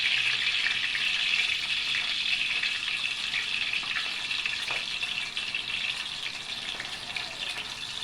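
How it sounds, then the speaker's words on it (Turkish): A steady, loud hiss and crackle of meatballs frying in hot oil, continuous throughout, with no talking. "Şimdi köftelerimizi kızartıyoruz."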